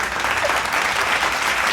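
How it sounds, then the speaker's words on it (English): Applause in a home setting, a brief, steady burst of clapping filling the moment with no speech over it. "I gotta give myself a round of applause"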